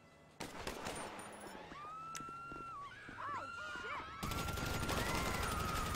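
Video game gunfire on PC in a ranked match: dense bursts of shots and loud rapid fusillades fill the scene, with tones and effects sweeping through and a heavier volley near the end.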